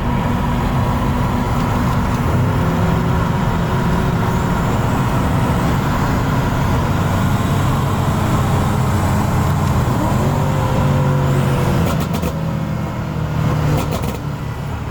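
A BMW M5 Competition in Sport Plus with traction control off, its engine a loud, steady roar held for the whole stretch, with rising tonal shifts that suggest gear changes under acceleration, close up and with no talk.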